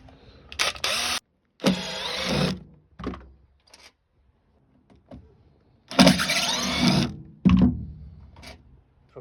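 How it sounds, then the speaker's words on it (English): Screws being driven out of the floor panel of a 1993 XG Falcon police panel van: several loud, close bursts of power-tool whirring, each lasting about a second, separated by quiet pauses and small clicks. "So we're going to start unscrewing some screws."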